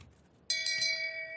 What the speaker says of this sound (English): let me get the shame bell